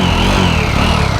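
Close, loud, steady engine and exhaust drone from a Jawa 42 motorcycle, a continuous low rumble with no voices.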